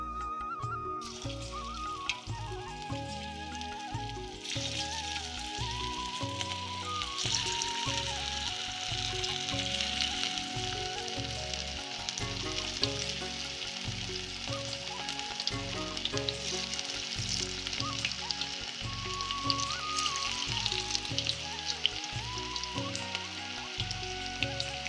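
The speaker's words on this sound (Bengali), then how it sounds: "এবার আমি একে একে আমি ফুলকপি যেটা ব্যাটারটা আমি বানিয়ে রেখেছিলাম সেটা আমি একটা একটা করে দেব" Battered cauliflower florets sizzle steadily in hot oil, a dense continuous crackle and hiss lasting throughout, with a rhythmic music track playing underneath.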